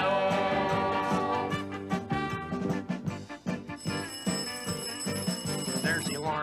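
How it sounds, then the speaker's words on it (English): An alarm clock bell rings in a rapid continuous metallic trill within a lively children's song, accompanied by music and other bells. "There's the alarm clock bell."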